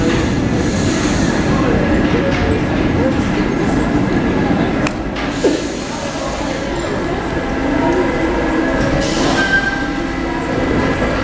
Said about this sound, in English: Paris Metro.